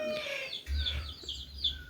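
Two pet turkeys at a house with potted plants and orchids call out in short, high, wavering gobbles and chirps, a few close calls over a quiet background.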